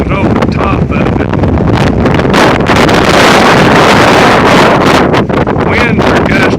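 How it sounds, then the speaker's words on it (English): Strong wind gusts roar across open Kansas country during a windstorm under a high wind warning, a loud, continuous buffeting blast battering the microphone throughout, with no clear break. "Winds are gusting 60 miles an hour here at least."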